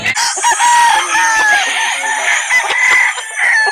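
Roosters at a Sunday chicken market in Calauan, Laguna crow loudly and close, long drawn-out calls overlapping one another amid clucking fowl and a crowded, busy background.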